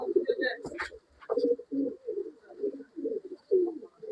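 Roshan, a male pigeon, and Sabja, a female, coo close by in a run of soft, repeated throaty phrases with a few brief higher chirps mixed in.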